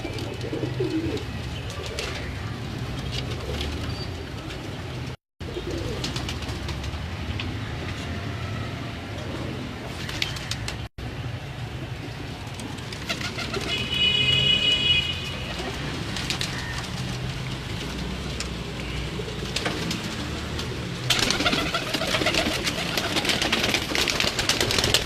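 Salara Teddy pigeons coo on and off in a Lahore loft, with low rumbling background noise, a couple of abrupt dropouts and brief faint talk.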